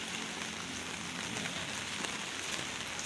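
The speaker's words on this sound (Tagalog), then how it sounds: "Medyo malakas yung ulan." Steady heavy rain falling and pattering on surfaces outdoors, a continuous even hiss with no one speaking.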